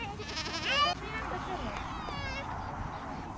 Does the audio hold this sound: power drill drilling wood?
no